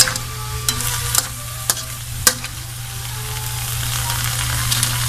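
Crab sautéing in a pan gives off a steady frying sizzle, with a few sharp stirring scrapes and clicks rising above it at irregular moments. No voice is heard.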